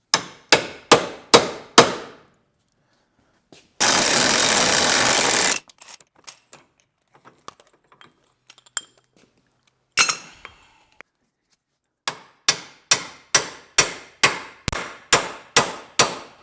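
Bursts of rapid, sharp metallic hammer blows ring out up close as a worn ball joint is hammered out of a BMW E36, broken by a loud hissing burst and scattered clinks and taps.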